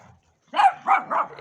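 A small dog gives three or four quick, sharp, high-pitched yips and barks, close and fairly loud after a brief silence, with no talking over them.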